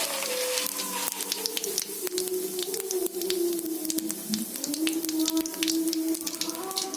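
Cumin seeds, added after bay leaf, sizzle in hot oil in a wok, a continuous crackling hiss with sharp pops and spits, close and steady with no talk.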